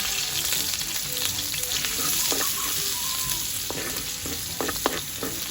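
Chopped onion and garlic hit hot oil in a pan over a charcoal fire, giving a steady crackling sizzle with scattered sharper pops and spatters throughout, close and continuous with no talking.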